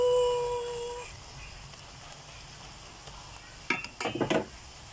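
Sautéed vegetables being stirred in a pan: a soft sizzle runs underneath, then a short cluster of scraping, clattering utensil strokes toward the end.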